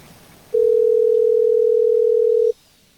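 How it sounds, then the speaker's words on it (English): A telephone ringback tone sounds while a call is placed to a phone: one steady, unbroken electronic tone holding for about two seconds, clear and loud over a faint background hiss. "Dan, won't you answer your phone?"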